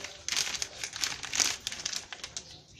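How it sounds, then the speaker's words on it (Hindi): Plastic poly bag crinkling as it is pulled over a fresh mango graft, a close, busy run of crackles and rustles lasting a few seconds, with no talk. "ये पॉली बैग चढ़ा दिया मैंने।"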